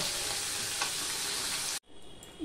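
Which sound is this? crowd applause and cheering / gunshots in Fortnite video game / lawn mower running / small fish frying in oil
small fish frying in oil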